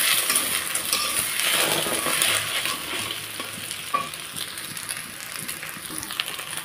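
Fried egg and gourd-leaf dal are stirred together in a pan, giving a continuous close sizzle with scraping stir strokes and a few small clinks, with no talking.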